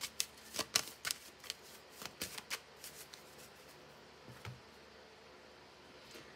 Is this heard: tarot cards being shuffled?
yes